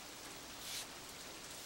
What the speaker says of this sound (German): aber es regnete immer weiter.